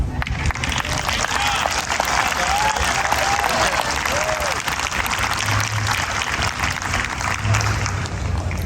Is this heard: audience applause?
yes